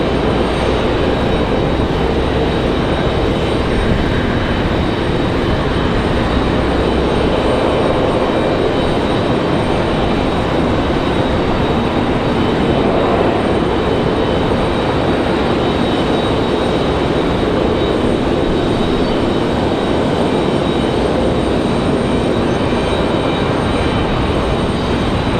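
Southwest airliners landing back to back on parallel runways 23 right and 23 left at Raleigh-Durham International, a steady broadband jet roar that stays loud and continuous throughout with no talk.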